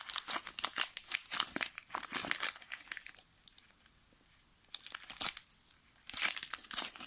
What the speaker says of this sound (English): this plastic doesn't seem to want to really come off